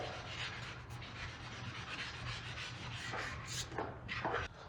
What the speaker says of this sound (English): really just trying to scuff up the clear coat